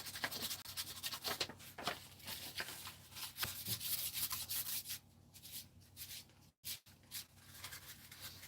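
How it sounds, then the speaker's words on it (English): Light hand sanding with fine wet-and-dry sandpaper on a TARDIS build, a soft, continuous rasping rub with uneven strokes, faint and close, briefly pausing near the end. "Giving it a light sand. This is wet and dry."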